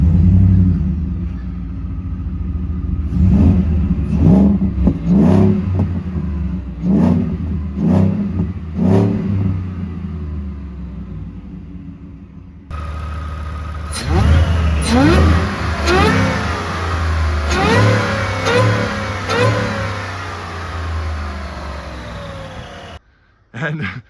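A 2022 Shelby off-road truck rated at 775 horsepower, fitted with dual exhaust cut out into the rear bumper, starts up and revs in several sharp bursts close to the tailpipes, then settles into a loud, throbbing idle with further blips before cutting off.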